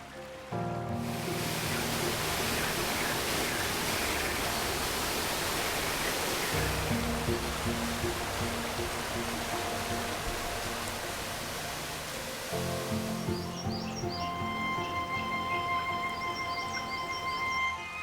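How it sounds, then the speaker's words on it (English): Streams and rivers flowing in Portugal: a steady, broad rush of water holding at an even, moderately loud level throughout, with tonal musical layers underneath. "At lower altitudes, the streams come together and the riverbeds become wider and stronger"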